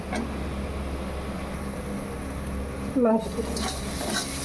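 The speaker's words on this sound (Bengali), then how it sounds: "এখন ভালো করে এগুলো মিশিয়ে নেব, মিশিয়ে একবারে কষিয়ে নেব। যতক্ষণ কষানো না হচ্ছে ততক্ষণ নাড়াচাড়া করতেই থাকবো।" Spices and pork frying together in a pan while being stirred, a continuous close sizzle with soft scraping, one brief louder clatter of the utensil near the end, no talking.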